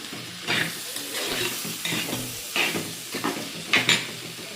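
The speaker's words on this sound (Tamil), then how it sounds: "பாருங்க தக்காளி போட்டு நல்லா வதக்குவோம்" Tomatoes sauté in a pan while being stirred, for a Tamil bitter gourd fry: a steady sizzle with repeated scraping strokes of the spoon at an irregular rhythm, close and clear.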